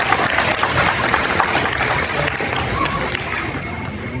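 A crowd claps for volunteers at an interfaith soup kitchen Christmas dinner, dense steady applause filling the room throughout, loud and close.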